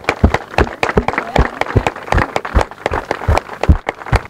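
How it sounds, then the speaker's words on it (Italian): Crowd at an outdoor demonstration for a red bench honoring women victims of violence, clapping in loud, distinct, fairly rhythmic claps, close and steady throughout. "Un grande applauso!"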